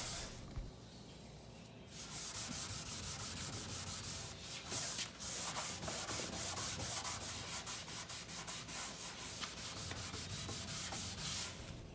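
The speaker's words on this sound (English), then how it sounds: "So I got some odorless mineral spirits and started to scrub off the wax" Rag or brush scrubbing old wax off a wooden veneer dresser with odorless mineral spirits, a close, steady back-and-forth rubbing with quick rhythmic strokes, quiet at first and then continuous.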